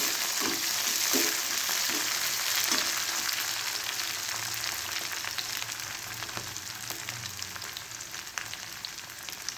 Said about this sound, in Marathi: थोडी कोथिंबीर टाकूया हलवून घ्यायचं